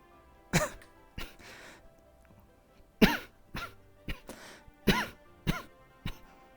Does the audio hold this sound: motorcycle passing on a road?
no